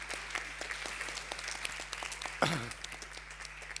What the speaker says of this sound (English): can we just have a round of applause for everyone